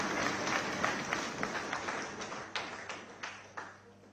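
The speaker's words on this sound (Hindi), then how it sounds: "एक बार जोरदार तालियां हमारी ऋचा पांडे।" Audience applause at an Indian news TV event: a faint, steady patter of many hands clapping, thinning toward the end into a few scattered, sharper individual claps.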